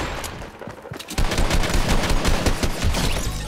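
Gunfire in Fortnite, played on a phone, crackles as dense rapid bursts of shots, lighter at first and then a loud sustained volley, with no talking over it.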